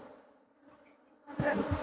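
Honey bees buzz at a beehive, a soft hum that suddenly swells into a loud, close, continuous drone as insects pass near.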